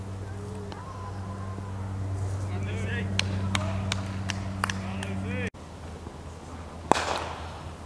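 At a village cricket match between Sanderstead Sunday XI and Outwood CC, a bat strikes the ball with a sharp crack, followed by a quick run of clicks over open-air ambience, while someone talks over it.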